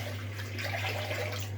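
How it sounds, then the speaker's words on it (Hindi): Water runs steadily into a cooking pot, making a soft continuous splashing pour over a low electrical hum, fairly faint and unbroken. "पानी निकाल रहे हैं"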